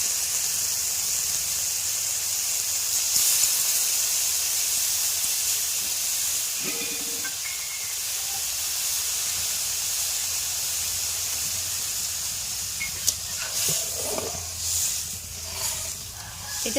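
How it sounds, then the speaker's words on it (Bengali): Water poured into a hot pan for an ilish (hilsa) fish curry with gandharaj lemon, giving a steady close hiss and sizzle that runs throughout, with a few brief clatters near the end. "দিয়ে জল ঢেলে দেবো।"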